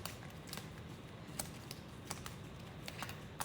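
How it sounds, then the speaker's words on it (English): A small pile of game cards being shuffled by hand during a solo tabletop wargame, heard as soft, sharp clicks and slaps at uneven intervals in a quiet room. "So now we got to shuffle this pile,"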